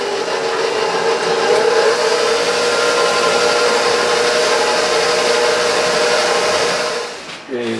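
An electric mixer whirs steadily and loudly while mixing the dry ingredients for dough, a constant motor hum that holds for several seconds and then winds down as it is switched off near the end.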